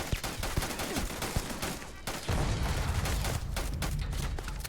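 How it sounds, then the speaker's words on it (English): Automated turrets open fire in the Starfield video game, with dense rapid gunfire rattling continuously over several seconds and a heavier booming layer joining midway. "Oh, got turrets."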